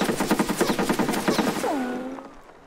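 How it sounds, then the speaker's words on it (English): Gunfire in the shooter game Escape from Tarkov: a rapid burst of automatic shots in close succession, loud and near, followed by a fading ringing echo. "So he's trying to shoot me through that bookshelf because he thinks I'm going to be peeking that shelf."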